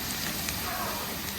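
Slices of ripe plantain frying in hot oil until golden brown, a steady dense crackling sizzle with faint popping, close and continuous throughout.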